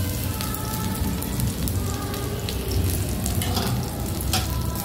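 Crushed garlic frying in hot oil in a pan for a Bengali potato and pumpkin curry, a steady dense crackling sizzle throughout, close and even, with no voices.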